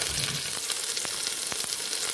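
Mustard seeds and urad dal frying in hot oil for a tempering, a close, steady crackling sizzle with a few sharper pops and light stirring, no voices.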